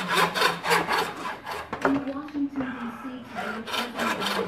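A hand saw cuts through the bone of a whitetail deer skull plate in steady back-and-forth strokes, close and rasping, with a brief pause midway before the sawing resumes.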